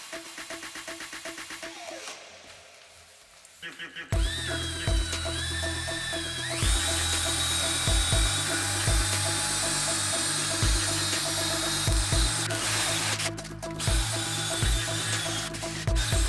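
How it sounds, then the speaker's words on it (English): A power drill fitted with a scrubbing brush attachment works abrasive cleaning compound against hard water stains, starting with a steady, close whirring whine that carries on with repeated thumping and scrubbing knocks. "One drill, some abrasive cleaning compound, and some kind of scrubbing kit."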